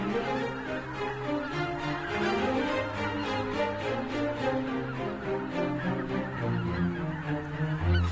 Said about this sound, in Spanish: Los gansos pasan la noche sobre aguas decrecidas, donde se sienten a salvo.